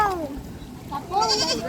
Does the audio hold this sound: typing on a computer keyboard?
no